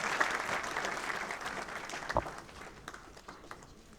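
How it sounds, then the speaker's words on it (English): Faint auditorium applause from an audience at the inauguration of an international Roma conference and cultural festival, a distant, even wash of clapping with one sharp nearby thump partway through. "another special release this morning calls for a round of applause from everyone in the auditorium, please."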